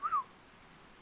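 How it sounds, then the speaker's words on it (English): A short whistle in the pirate-era game Assassin's Creed IV: Black Flag, one quick rising-then-falling tone, soft and close, followed by quiet background. "Whistle, whistle!"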